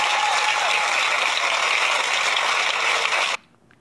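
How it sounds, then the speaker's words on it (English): A studio audience on a talk show breaking into a loud, dense round of applause that holds steady, then cuts off abruptly near the end, leaving near silence. "Give her a big round of applause."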